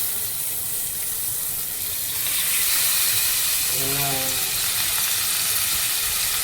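Chicken liver (kaleji) sizzles loudly in a pan of onion, ginger and garlic paste, a steady close hiss of frying that swells after the liver goes in, with no talking.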